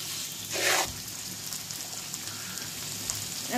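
Chicken pieces and potatoes fry in spiced masala in a pan for a Bengali chicken and potato curry, giving a steady close sizzle with a brief louder stirring burst near the start.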